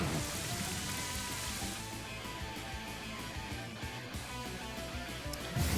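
Rain from the Rain Dance move in Pokemon Scarlet/Violet falls steadily, a soft, even patter of drops across a surface with no voices.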